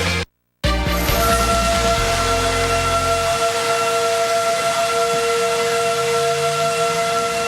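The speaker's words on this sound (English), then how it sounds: "That's the tornado sirens sounding the alarm in Oklahoma." Loud tornado sirens in Oklahoma sound a sustained, steady tone with a hissy edge, after a brief cut-out near the start.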